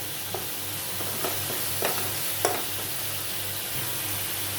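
Onion, tomato and ginger-garlic paste fry in a pan for a Malvani prawn curry, a steady close sizzle with a few light scrapes of a spoon.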